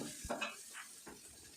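Chopped ingredients for a chilli omelette sizzle gently in hot oil in a pan, with a few stirring scrapes over a soft, steady crackle.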